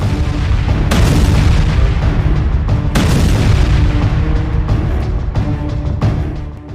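A large rocket barrage strikes military barracks in northern Israel, fired from Lebanon, heard as a rolling series of heavy booms and blasts with sharp onsets, loud and dense throughout.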